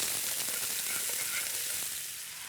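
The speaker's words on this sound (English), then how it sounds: "So in with the shaoxing, we'll stir that around." Prawns with Shaoxing wine sizzle in a wok as they are stirred, producing a dense, close hiss that swells slightly and then fades a little over a couple of seconds, with no voices.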